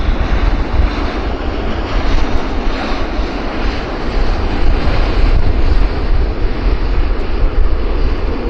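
A fixed-wing airliner on approach to land at Vancouver airport roars loudly and steadily overhead, a broad engine rumble with gusty wind buffeting, no voices.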